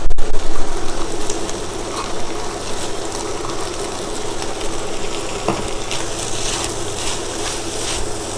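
Mung bean sprouts tossed into a hot frying pan for Thai noodles, giving a steady, close sizzle and moist crackle that opens with a louder burst, with light stirring scrapes throughout.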